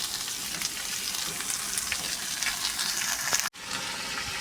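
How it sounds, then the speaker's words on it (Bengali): Chicken leg pieces fry in a pan inside a truck cab, giving a steady loud sizzle with a brief break near the end. "প্রথমে দিয়ে দেবো লেগ পিসটা, তারপরে দিয়ে দিচ্ছি চিকেন। চিকেনটা একটু ভাজা ভাজা হয়ে যাবে"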